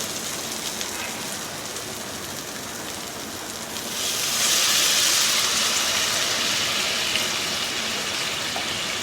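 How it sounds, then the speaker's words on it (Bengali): Water poured into cooked, fried spice masala in a pan while making Bengali moya fish curry, a steady rushing hiss that swells louder about halfway through and keeps running to the end, close and with no talk. "এবার আমি এর মধ্যে দিয়ে দেব জল।"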